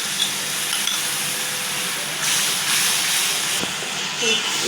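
Water is poured onto frying onion-garlic spice paste in a hot kadai, giving a continuous hiss that swells briefly twice. A faint voice sits underneath.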